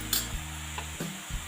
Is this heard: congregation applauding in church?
no